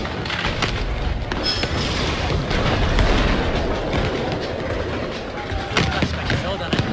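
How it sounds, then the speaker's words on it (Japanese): Cannon fire during a siege of Osaka in the stealth game Shadow Tactics: Blades of the Shogun, heavy booms landing in a dense, continuous battle din with a voice talking over it. "大砲に注意しろ。"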